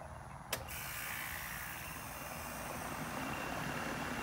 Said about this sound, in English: let's see if we can hear the compressor attempt to start